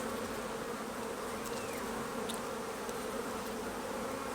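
Honey bees swarm around an open beehive during an inspection, producing a dense, continuous, steady buzzing hum that fills the whole stretch at an even, moderate loudness, with no talk.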